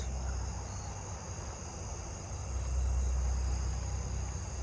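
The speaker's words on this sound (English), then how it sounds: "Oh, I'm hearing a Japanese burrowing cricket." Japanese burrowing cricket chirping faintly in a night chorus of insects, steady high tones running throughout with a low rumble of background noise, no voices.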